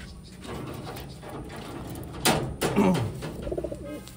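Taiwan pigeons coo softly in a loft, low throaty calls repeating under handling noises and a sharp clatter midway.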